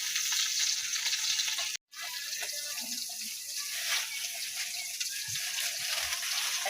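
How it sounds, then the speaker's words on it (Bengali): Rui fish frying in hot oil in a wok, a steady, close hiss and sizzle with a brief cut near the start, then crackling continuing evenly. "ওর জন্য একটু রুই মাছ ভাজবো।"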